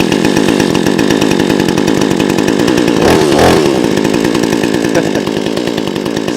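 XtremePower gasoline two-stroke chainsaw running steadily at high revs, a loud, buzzing, rattling engine drone that holds for the whole stretch with a brief rise in pitch partway through, close and alone.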